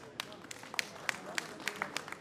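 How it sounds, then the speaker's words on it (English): Sparse, faint claps ring out at a Nigerian Democracy Day celebration marking 25 years of democratic governance. The distinct hand strikes are spread irregularly across a quiet, distant-sounding hall, with faint voices beneath them. "A big round of applause first."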